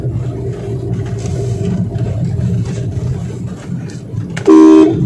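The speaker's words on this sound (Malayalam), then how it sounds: "വളവ് കണ്ടു, ഞാൻ ഹോൺ അടിച്ചു," A car climbing a bend in second gear rumbles steadily, then its horn gives one short, loud honk near the end, close over the engine and road noise.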